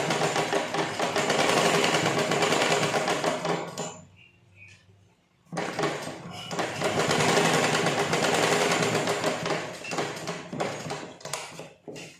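A sewing machine stitches along a folded blouse fabric edge in two long, loud, steady runs, with a short quiet pause between them.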